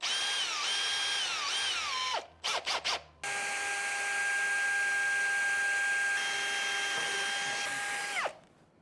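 A power drill bores holes into the steel frame of an abandoned F150 truck, whining at a steady high pitch, briefly stopping with a few short bursts, then running long and loud before winding down.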